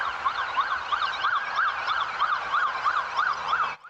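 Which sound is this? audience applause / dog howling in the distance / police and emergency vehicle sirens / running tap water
police and emergency vehicle sirens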